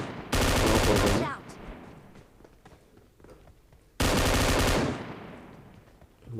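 Gunfire in the mobile shooter BGMI: two loud, close bursts of rapid automatic fire, each lasting about a second, separated by a quieter stretch of faint movement and ambient noise.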